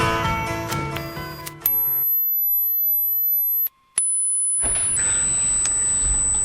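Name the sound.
high-pitched mosquito device anti-loitering tone, boosted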